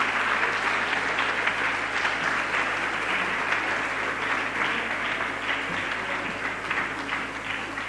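Applause from an audience at a Ghanaian nation-building forum, loud sustained clapping that holds strongly across the whole stretch and eases only slightly toward the end.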